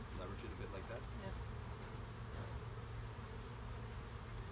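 Honeybees swarm around an opened hive while it is being worked, a steady low droning buzz filling the air, with quiet voices talking underneath.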